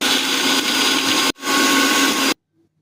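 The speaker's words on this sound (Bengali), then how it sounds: "শিলনোড়াটা বার করে নিলাম, অল্প একটু জল দিয়ে" Coriander leaves, peanuts, garlic and green chillies ground with a little water on a stone shil-nora, a harsh continuous scraping rasp in two close, loud strokes separated by a brief pause, then silence.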